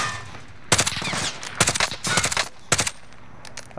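Gunfire in the shooter Warzone: bursts of rapid automatic shots in several clusters over a steady background din, loud and fairly close.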